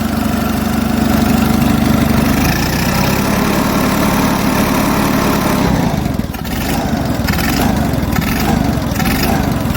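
A large military generator engine, an Onan, runs steadily throughout, a loud continuous mechanical drone that shifts pitch partway through, with no pauses.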